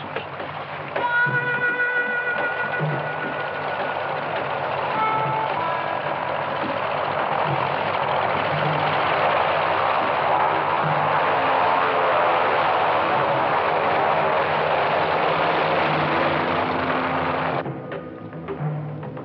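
A steady, loud aircraft engine drone continues without a break during a getaway flight after a heist, with faint tonal whines above the roar and a small shift near the end.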